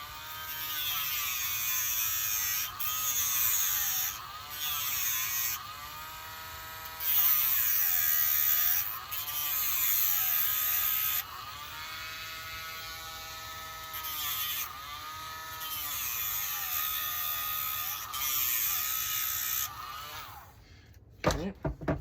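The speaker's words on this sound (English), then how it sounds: "Actually, what I might do is just use a Dremel for that." A handheld Dremel rotary tool cuts a part during a thermal hunter build, its high steady whine rising and dipping in pitch as the bit loads up against the material, running near and loud through most of the stretch before stopping.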